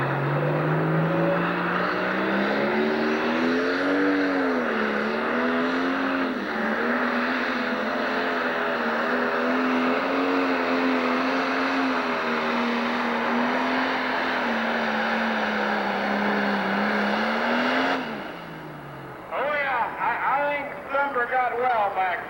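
A modified pulling tractor engine with a high-output injection pump roars at full power, around 6,700 RPM, at a 1997 Sandwich, Illinois tractor pull. A loud sustained howl shifts pitch slightly, then cuts off, with crowd noise and talk after.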